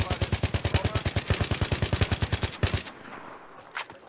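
Video game machine gun fire in a rapid, steady stream of sharp, loud bursts lasting about two and a half seconds, then stopping abruptly and leaving quiet background with a faint blip.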